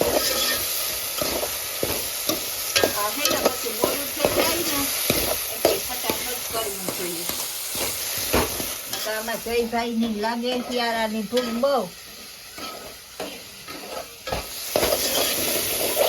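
Spice masala tempering in a pan: a continuous sizzle and hiss with scraping stirs, heard up close under a man's singing-style talking voice throughout.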